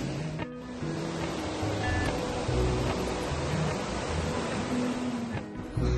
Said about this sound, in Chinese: 非常湍急的小溪流